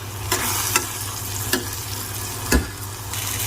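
A spoon quickly stirs curry with fresh curry leaves and red chili powder in a pan over low flame, steady sizzling frying under a few sharp scrapes and taps against the metal.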